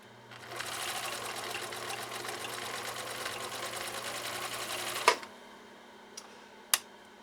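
A 1962 Husqvarna Viking 19E Special sewing machine stitches compressed felt, running in a fast, even mechanical whir for about four seconds, then stopping with a clunk, followed by a couple of small clicks.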